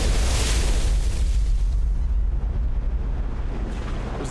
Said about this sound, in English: that explosion there was partially a visual effect because we were told that we could not actually put explosives in the river